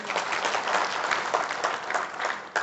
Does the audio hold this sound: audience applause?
yes